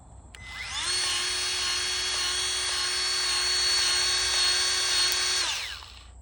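A powered tool pumps grease into a fitting on a Huayee SHY 10 quick disconnect, letting out a single sustained high-pitched motor whine that starts abruptly, holds steady for about five seconds and then cuts off, close and loud.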